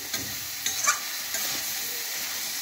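Chicken pieces sizzle steadily in a pan while being stirred with a few scraping knocks of a utensil, close and continuous, with no talk.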